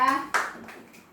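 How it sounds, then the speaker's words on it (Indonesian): A short, quick burst of clapping from a small group of classmates in a classroom, following a voice, fading out within about a second. "Tepuk tangan buat Dinda."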